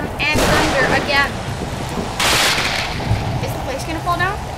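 Thunder and an acid storm in the Roblox game Disaster Survival rumble over steady rain, with two loud bursts of thunder standing out against the constant hiss of the storm.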